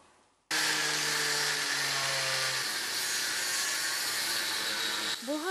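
Angle grinder cutting into a door at a children's opera and ballet theatre in Kyiv, a loud, sudden high whine with steady pitched tones that grinds on continuously before cutting off abruptly near the end.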